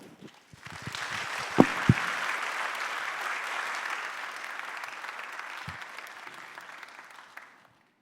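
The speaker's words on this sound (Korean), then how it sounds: "여러분들 큰 박수로 환영해 주시길 바랍니다" Congregation in a church applauding to welcome a testimony speaker: steady, full applause that rises quickly, holds for about seven seconds with a couple of sharper claps near the start, then fades out.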